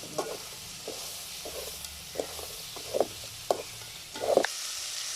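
Chopped raw plantain sizzles gently in a hot pan while a utensil scrapes and stirs it with intermittent clacks, ending in a brief louder burst of sizzling.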